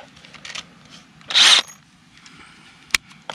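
Power drill with a non-wood bit boring into wood framing for greenhouse walls, a short loud whirring burst with faint clicks and handling noises before and after in a quiet space.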